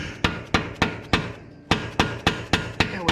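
A dead blow hammer strikes the lower control arm ball joint on a 2009 Nissan Versa, about ten sharp, evenly spaced blows close up, with a short pause partway through and no talking.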